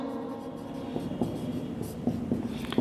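Pen or chalk strokes write an economics formula during a Hindi-language lesson, faint scratchy taps and short strokes scattered over a steady low room hum.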